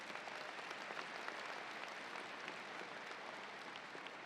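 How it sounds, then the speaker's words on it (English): Faint, distant applause from a crowd in the stands at a university commencement ceremony, continuous and even throughout, with no talking over it. "why don't we give a round of applause for all the people in the stands that helped you get to where you are today"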